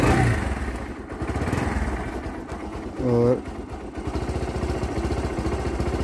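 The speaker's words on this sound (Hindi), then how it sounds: "अभी स्टार्ट करता हूँ बाइक को" A Bajaj NS 160 motorcycle engine turns over and catches, then settles into a steady, chugging idle close by; a voice speaks briefly at the start.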